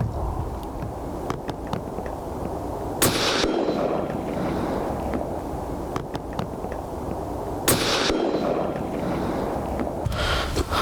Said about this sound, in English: So that was my first shot, and then that was the two further shots once I'd adjusted the zero down.